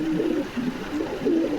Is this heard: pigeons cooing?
yes